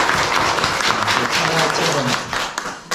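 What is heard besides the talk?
congregation applauding in church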